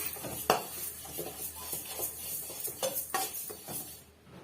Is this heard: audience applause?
no